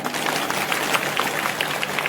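A crowd at a women's gathering in Mangalvedha claps after a song, a dense, continuous wash of many hands applauding, fairly loud and steady throughout with no clear voices.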